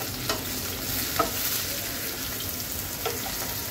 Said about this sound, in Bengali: পেঁয়াজ কুচিটা একটু ভেজে দিব। তেজপাতাও দিয়ে দিলাম।